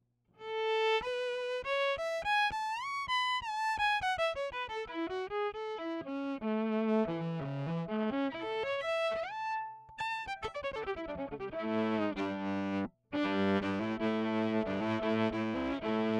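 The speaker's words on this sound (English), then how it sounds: "it's giving it a little bit of saturation and color, a little bit of harmonic distortion and content that wasn't there previously" Electric guitar through a preamp pedal adding saturation and harmonic distortion, playing sustained melodic lines and then chords, loud, close and continuous, with no talk.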